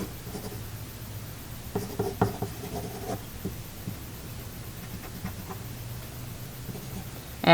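A name is written on a small sheet of paper during a first-grade painted-pumpkin art lesson: soft, close scratching strokes in short irregular bursts over a quiet room hum, with no talking.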